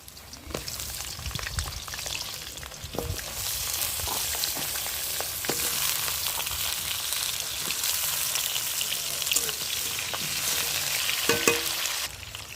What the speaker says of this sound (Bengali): তো আলুটা আমি ভাজা ভাজা করে নেবো আগে।